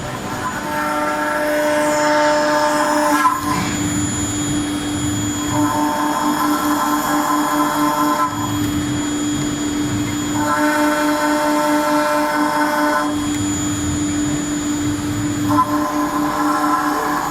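A CNC router with a rotary axis runs at the Mac Tech 2020 trade show, giving a steady droning hum with pitched whines that rise and fall in repeating cycles against continuous hall noise.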